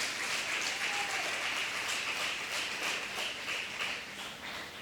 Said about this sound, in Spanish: Dele un aplauso a Cristo y alabe su nombre